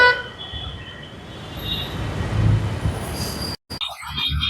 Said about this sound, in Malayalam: മേളിലൂടെ മെട്രോ പോകുന്നുണ്ട്